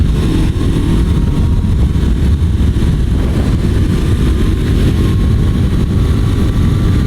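A Honda CBR500R motorcycle cruising on a dual carriageway, its engine droning loud and steady under heavy wind roar throughout, with no speech.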